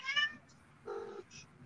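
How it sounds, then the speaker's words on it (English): A cat meows twice, a short higher mew followed by a lower, longer one, close and clear with quiet gaps between. "I hear a kitty kitty."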